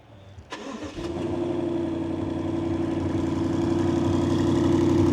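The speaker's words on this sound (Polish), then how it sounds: "Nawet ta maszyna burczy i furczy," A 2020 BMW M550i, 530 hp, is started remotely from its key: a sharp crank catches, and the engine settles into a loud, steady, rumbling idle close by with no talk.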